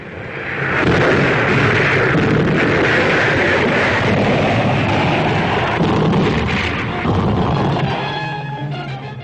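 Heavy naval guns of the warship USS Savannah firing at a beach during the WWII invasion of Italy, a loud sustained roar of overlapping blasts and rumbling booms that fades slightly near the end.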